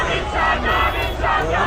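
Loud protest crowd in Iran chanting slogans in a dense, continuous roar of many voices, with rhythmic swells in the chant and no clear single speaker.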